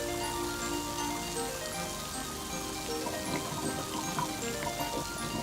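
Rain falls outdoors near a house gutter that collects the rainwater, a steady wash of patter and dripping with scattered ticks, constant and close.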